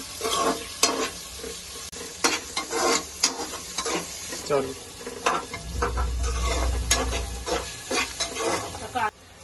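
Food fries in a pan over medium gas for a soybean pulao, with a constant close sizzle and repeated clinks and scrapes of a stirring spoon; a low rumble rises briefly partway through.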